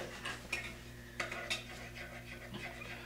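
A drink concoction is mixed close by, with scraping and clinking of a utensil against a container in a few sharp bursts over a low background hum.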